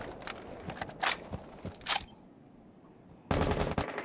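Gunfire in the video game Rainbow Six Siege, fast bursts of shots at moderate distance followed by a short lull, then a louder burst close by, with no talking.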